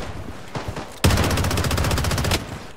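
Gunfire from the shooter Blood Strike, a dense rapid burst of loud, evenly spaced shots lasting over a second after a few faint earlier pops, with no talking.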